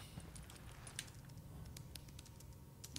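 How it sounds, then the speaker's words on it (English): Keyboard typing in the video game Tom Clancy's The Division: quiet, irregular little key clicks scattered over a low steady background hum, with no talking. "the sounds in this game are fantastic. Like that little typing, so satisfying."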